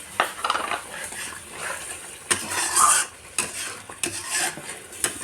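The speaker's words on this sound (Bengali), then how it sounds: "মিক্সি ধোয়ার বাটিটা থেকে একটুখানি জল দিয়ে দিচ্ছি" A splash of water hitting frying masala for a prawn curry, bursting into loud sizzling with repeated scrapes and clinks of a spatula against the pan.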